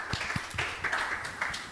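A church congregation at a joint youth and young-adult worship service claps in thanks, scattered claps over a soft wash of applause that rises and dips in waves.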